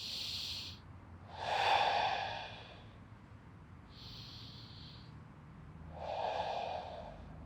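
Slow, deep diaphragmatic breaths, drawn in and let out audibly and fairly close, while a person lies rolling a sore muscle knot on a massage ball, with quiet gaps between breaths.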